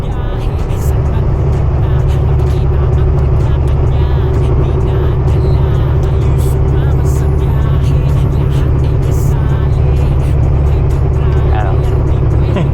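A car cruises at about 85 km/h on Trans-Canada Highway 11 in low visibility, with a loud, constant road and engine rumble throughout. An oncoming vehicle passes somewhere in the drone, and speech may be faintly present underneath.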